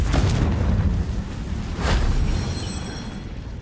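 A Confringo spell in Hogwarts Legacy detonates in a deep, rumbling boom that rolls on as a dense, noisy blast, with a second burst following and then slowly fading.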